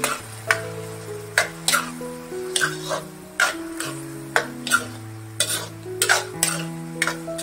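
Tomatoes fry in oil and ghee for a Marathi palak soybean sabji, a low sizzle under regular clinking spatula strokes against the pot, roughly one every half second, with a faint tonal hum in the background.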